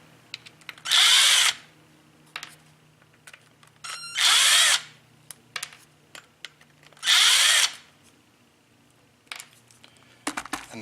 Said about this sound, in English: or use a drill